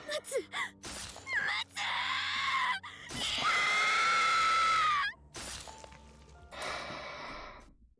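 A man screams in the Iwaihime video game, with long anguished, drawn-out cries broken by gasps and groans, loud and close, set against a low game backdrop.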